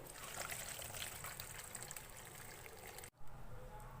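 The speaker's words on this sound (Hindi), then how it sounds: "अब यहाँ मैंने एक बाउल पे स्ट्रेनर रखा है, इसमें छान लेंगे।" Boiled pasta drained through a strainer set over a bowl, a steady rushing pour of water that cuts off abruptly near the end before a brief splash resumes.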